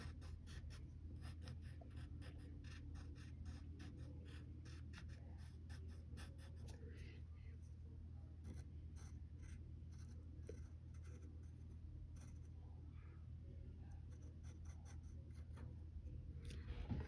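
Pencil drawing on paper, sketching the star earrings and head of a Wonder Woman figure, gives steady close scratchy strokes and quick taps that run continuously with no talking.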